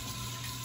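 Hands washed with a dab of soap under a running tap, a steady, close rush of water flowing without break.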